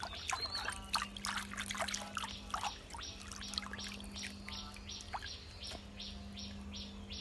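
Water in a fish tank is stirred by hand, making a continuous soft trickling and sloshing up close, with faint chirps in the background and no talk.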